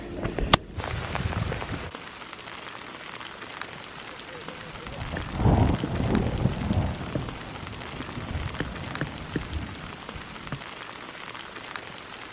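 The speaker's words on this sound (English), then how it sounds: "it's definitely started to rain now" Rain falls on a forest hike in Colorado's San Juan National Forest, a steady close hiss of drops that swells louder midway before settling back.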